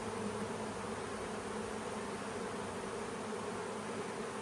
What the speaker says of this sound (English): Now we got a few more bees in that box.